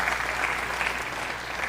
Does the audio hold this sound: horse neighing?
no